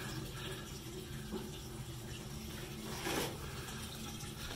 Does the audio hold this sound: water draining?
yes